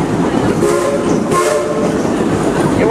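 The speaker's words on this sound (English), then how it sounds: "give us three toots on that whistle" A steam train on the Frisco Silver Dollar Line sounds its whistle in short toots over the loud rolling rumble and clatter of the moving carriages close by.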